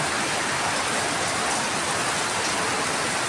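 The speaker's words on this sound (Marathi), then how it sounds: "पाऊसच कसा पडतोय तर थांबतच नाही आहे" Heavy monsoon rain pours down in the Konkan in a dense, unbroken roar, loud and close, with no pauses or other sounds.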